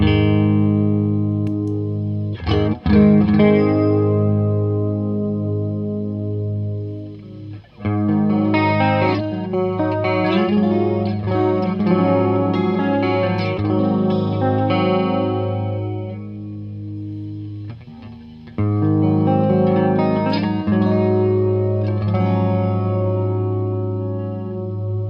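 Electric guitar played through a Pastfx Elastic Mattress flanger, a variant of the EHX Electric Mistress, with the color knob fully down so it acts as a chorus, giving sustained strummed chords a wobbling, shimmering modulation with brief pauses between phrases.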